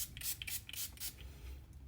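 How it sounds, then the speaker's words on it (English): A handheld Earth Harbour Mystic Waters face mist sprayed onto skin, giving several short, soft hissing bursts in quick succession, close and fairly quiet against a low background hum. "Let me spray it on."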